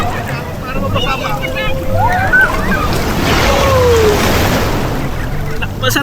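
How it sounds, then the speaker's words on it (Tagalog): Wind buffets the microphone as water rushes and splashes around a moving boat off Laiya, San Juan, Batangas, with voices and brief whistly tones mixed in. "Masarap ang alon."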